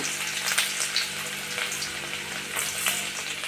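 Chopped garlic frying in hot oil for chilli chicken, a dense, steady close-up sizzle with crackles and occasional stirring scrapes, no speech.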